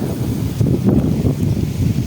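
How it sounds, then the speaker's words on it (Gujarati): Strong wind sweeps across open farmland, a heavy low roar of gusts hitting the microphone, swelling and easing in near, steady surges without talking. "બહુ જ પવન આવી રહ્યો"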